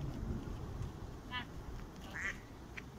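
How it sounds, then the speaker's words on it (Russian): A duck quacks in a park, two or three short faint calls over wind noise and low rumble outdoors. "Кря-кря."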